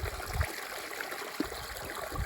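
A woodland stream runs continuously with a soft, close rushing wash and occasional low gurgles, steady and moderately quiet throughout, with no voices.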